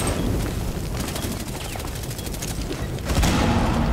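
Sustained machine gun fire from Tachanka in Rainbow Six Siege rattles on as a dense, loud stream of rapid shots, then swells even louder near the end, with no voices over it.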